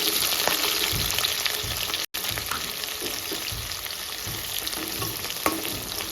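Onions frying in a pan with mustard seeds and green chillies for a cucumber egg curry, a steady close sizzle with occasional stirring scrapes and a brief cut partway through, no voices.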